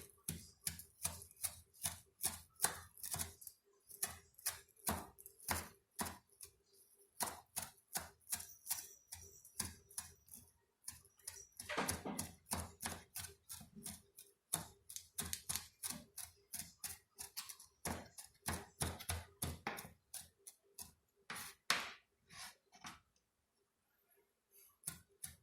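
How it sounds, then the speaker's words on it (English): Rapid rhythmic knife taps on a cutting board as parsley is finely chopped, crisp close clicks in quick bursts separated by short pauses, with no talking. "I just want to get like a fine chop because I'm going to sprinkle it right at the end"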